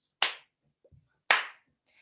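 Slow clap from a single person in a room: two sharp, well-separated claps about a second apart, close and distinct against near silence.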